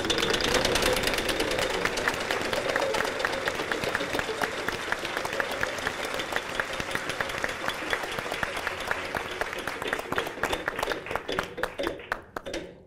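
Studio audience applause on the Wheel of Fortune game show: dense, loud, sustained clapping that fills the whole stretch and thins into scattered claps just before the end.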